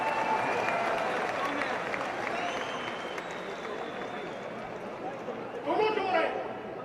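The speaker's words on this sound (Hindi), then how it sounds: "ठोको ताली ठोको" Audience clapping and applause at a 2018 political rally, sustained crowd clapping throughout with a speaker's voice over it and a brief louder swell near the end.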